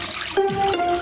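Water runs from a household tap into a basin, a steady close splashing rush with a faint rising tone, heard alone without any voices.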